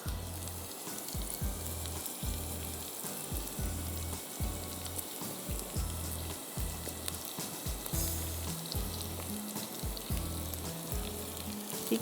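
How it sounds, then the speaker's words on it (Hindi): Curry leaves fry in hot oil in a pan with ginger, a steady close crackling sizzle over a pulsing rhythmic music bed. "कड़ी पत्ता डाल के आपने फ्राई किया 2 मिनट"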